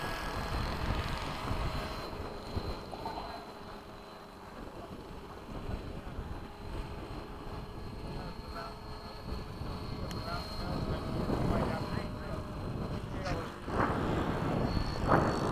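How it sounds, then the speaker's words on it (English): An F-16 fighter jet making a fast low pass at Bayside: a broad, windy jet roar that swells toward the end, heavily mixed with wind noise on the microphone. "Okay, fast low pass from the right."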